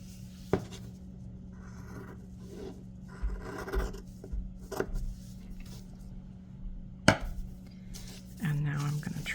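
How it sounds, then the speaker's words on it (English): Soft scissor snips trimming doll shoe material for a 16-inch fashion doll, faint and intermittent under a steady background hum, with a few sharper clicks. "what I'm gonna do is I'm gonna trim this off"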